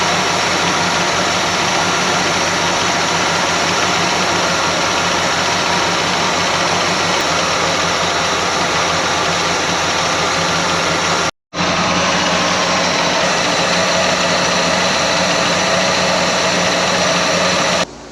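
Carbureted Lincoln Continental engine, abandoned for 32 years, idles high in a steady, loud, close drone with a brief cutout partway through before resuming.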